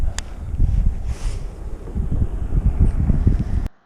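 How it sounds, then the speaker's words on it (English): Outdoor wind while fishing buffets the microphone in a steady, loud, low rumble that swells and eases for a few seconds, then cuts off abruptly, with no voices. "The wind is helping out a little bit."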